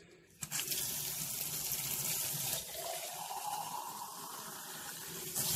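Water runs from a tap into a sink in a kitchen, a steady close splashing gush that starts after a short pause and continues to the end without talk.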